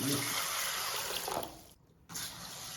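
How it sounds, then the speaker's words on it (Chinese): Water running over mung beans being rinsed, a continuous splashing flow that cuts off briefly near the end, then resumes. "用清水给它清洗干净"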